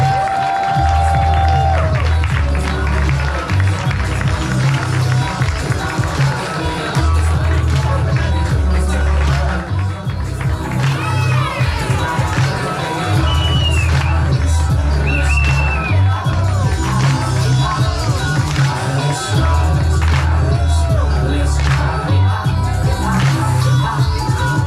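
Audience at a Notorious BOZ show fills the room with dense, continuous applause and cheering, loud and close, with whoops and crowd chatter mixed throughout.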